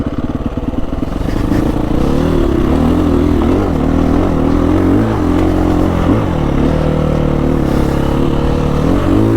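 A motorcycle engine idles steadily and loudly up close, its low rumble wavering slightly in pitch with occasional small surges throughout.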